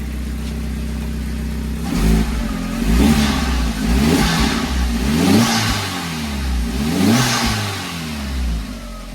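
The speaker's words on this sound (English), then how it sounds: "Give it a little rev here." A 1.8T VW Corrado engine idles low, then revs up several times in quick bursts, each rise and fall clear and close, with no talking.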